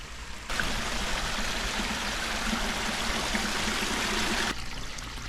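Water pours steadily down a waterfall in a large backyard pond build, a continuous rushing splash close by that swells in and holds evenly, with no one speaking.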